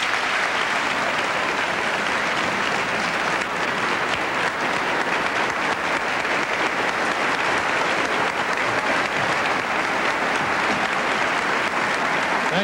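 Sustained applause from an audience at a college lecture evening welcoming Senator Helms home, dense steady clapping filling the whole stretch at an even loudness with no pauses.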